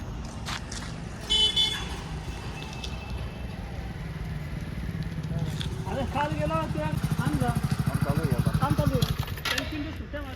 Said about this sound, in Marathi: इथनंच गाड्यांची ट्रॅफिक दिसते आपल्याला.